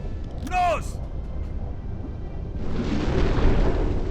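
A submarine torpedo launch in the video game UBOAT, a deep rushing whoosh swelling after a brief rising tone, with someone speaking over the game sounds.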